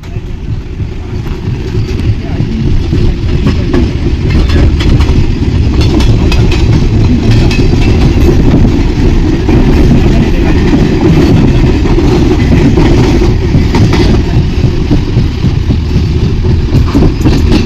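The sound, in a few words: train departing and running on rails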